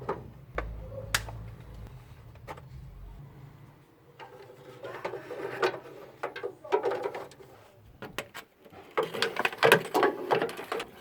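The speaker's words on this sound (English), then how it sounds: "Secure the initial screws in." Screws being tightened with a ratchet while working on a Ford Capri, giving quiet irregular clicking bursts and rattling taps, close by and with no talking.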